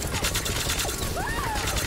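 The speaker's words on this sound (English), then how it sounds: "Just bullets going everywhere." Automatic fire from the Lucian's Call legendary assault rifle in Borderlands 3 rattles continuously at close range, with gliding electronic tones rising over the dense burst and a voice talking faintly beneath.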